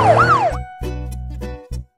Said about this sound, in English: Look, kids, that's a police car.